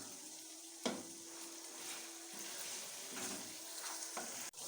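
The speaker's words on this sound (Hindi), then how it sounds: "अभी मैं इसमें ऐड कर रहा हूँ 3 टेबल स्पून अदरक और लहसुन का पेस्ट और इसको भी अभी 1-2 मिनट तक इसको थोड़ा सा पकाना है।" Ginger-garlic paste frying with meat in a pot, a steady sizzle with a few sharp clatters of stirring, close and fairly quiet, no talking.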